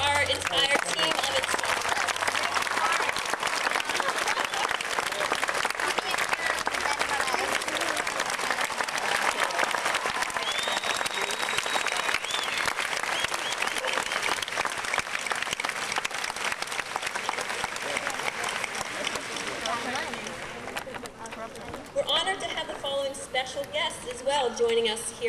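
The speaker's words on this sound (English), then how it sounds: "Let's have a round of applause for our entire team" Audience applause at a graduation ceremony, sustained loud clapping from a large crowd that fills most of the span, then thins out near the end.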